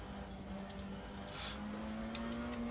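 A Tatuus FT-60 formula race car laps the Barcelona circuit in the racing simulator rFactor 2, its engine giving a steady, fairly quiet drone that holds one tone and rises slightly near the end.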